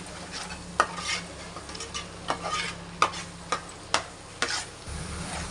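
Fish curry in a home-style pan sizzles gently as a spoon stirs it, each pass landing as a sharp metallic tap roughly every half second over the steady frying hiss.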